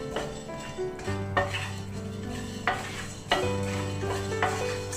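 Coriander seeds dry-roasting in a pan with a spoon stirring them, a steady soft rattling scrape and light crackle with a few sharper clinks of spoon on metal, close and alone without talk.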